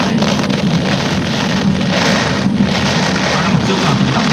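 Typhoon wind and rain in September 2018, heard from inside a car as a dense, constant roar of rain and gusting wind, loud and unbroken throughout.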